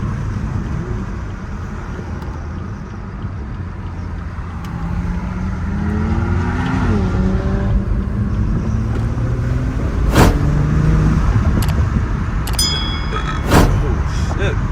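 A BMW 340 engine revs hard in 5:00 traffic in Mexico, a rising, falling drone with sharp throttle bursts that sweep upward, loud and close over a steady road rumble, with voices talking throughout.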